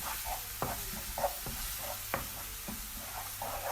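Turmeric and ground spices being stirred into a pot for St. Lucian dahl, with soft, sporadic scrapes and taps of a spoon over a faint low sizzle, close but quiet.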